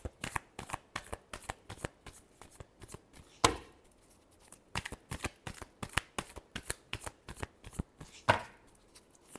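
Playing cards shuffled by hand during a tarot-style reading, repeated crisp riffling bursts in a quick rhythm, close and fairly quiet, with a couple of louder sweeps and no speech over them.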